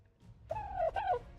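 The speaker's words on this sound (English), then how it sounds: "Some dodos clucking around." Dodos in the video game ARK: Survival Ascended, on the Extinction map, give two short warbling clucks close by, with a brief gap between them and no talking.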